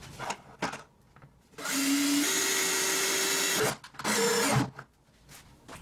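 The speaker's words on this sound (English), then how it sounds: "So we're gonna make a hole here." A power tool cuts a hole for the vacuum tube connection on a homemade vacuum cleaner, whining loudly and steadily for about two seconds, stopping, then running again briefly, with workshop handling noise between bursts.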